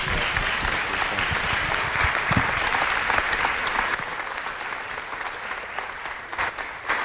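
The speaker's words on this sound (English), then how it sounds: "why don't we give them a big round of applause?" A room of people at a city council meeting gives a sustained round of applause, dense clapping that carries on for several seconds before thinning out toward the end.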